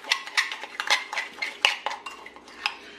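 A spoon clinks and scrapes repeatedly against a bowl while a chunky jerk marinade with dark sugar is mixed, giving a close, irregular series of metallic taps and rattles with no voices.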